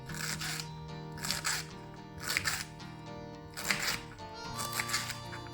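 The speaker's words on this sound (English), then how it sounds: "the beans is cut like this, very thin" A knife slices green beans very thin for a South Indian sabji, giving a series of crisp chopping bursts in uneven clusters against the board with tonal background hum.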